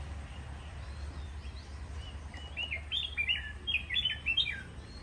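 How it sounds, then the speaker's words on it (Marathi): Birds chirp in the Konkan countryside, with several short, bright calls and trills growing busier toward the end over a low steady rumble of background noise. "पक्षी असे वेगवेगळे आवाज काढत असतात"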